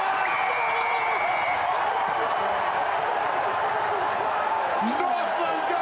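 A rugby crowd in Whangārei roars steadily at a Northland versus Auckland match, a dense sustained wash of cheering throughout, with a commentator talking over it.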